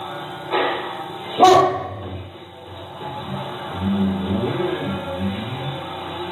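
A dog on the top floor of a house gives a few short barks and yips nearby indoors, one sharp loud bark standing out, followed by quieter whimpering sounds and muffled background talk.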